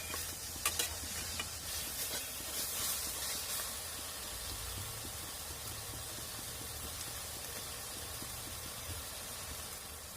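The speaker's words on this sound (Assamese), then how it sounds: "এতিয়া শাক চাক বহাই দিলোঁ নিমখ হালধি জোখমতে দি দিলোঁ" Greens sizzle steadily in a pan with salt and turmeric, a close, continuous frying hiss with faint stirring scrapes near the start.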